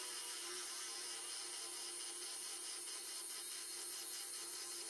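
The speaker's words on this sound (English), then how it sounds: "I'm going to drill through this blank all the way through with this drill bit." Steady, continuous grinding hiss of a drill boring through a wooden pen blank, constant and fairly faint, with no pauses or changes in pitch.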